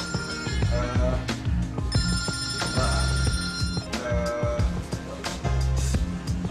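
A mobile phone rings loudly in a classroom, its melodic ringtone repeating in a steady pattern for several seconds with no pause.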